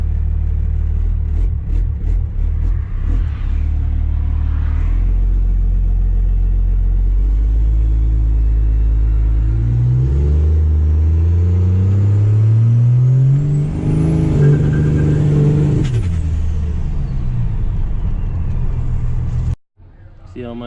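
A diesel drag truck engine idles loudly, left running in first gear, with a deep steady rumble that swells and shifts pitch partway through before cutting off abruptly at the end.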